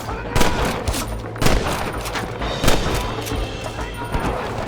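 Gunfire rings out during a Red Dead Redemption shootout at a cabin with hostages: several loud, close gunshots and short bursts about a second apart over a busy, noisy background.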